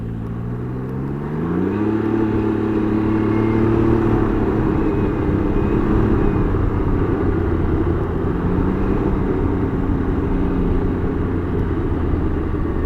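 A Can-Am Ryker 900 three-wheeler rides along with a steady, loud engine drone that climbs in pitch through the gears in the first couple of seconds, then holds an even cruising note throughout.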